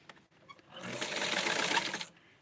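A sewing machine runs a short, close burst of just over a second while stitching a gathered dress for an 8-inch doll, with quiet handling sounds before and after.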